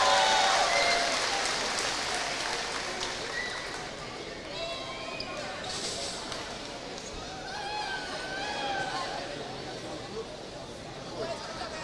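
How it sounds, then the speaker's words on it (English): A crowd applauds steadily at a girls' all-star high school basketball showdown, a broad, sustained wash of clapping and cheering that fills the gym at moderate distance, with scattered squeaks and murmuring voices mixed in. "Let's have one more round of applause"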